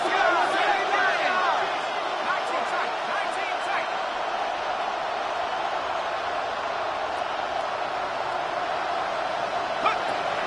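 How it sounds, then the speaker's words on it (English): Football stadium crowd roars before a third-and-long play, a dense, loud, sustained wall of cheering and whistles that holds steady throughout, with a commentator's voice over the din. "The crowd cranking it up another notch before third and long"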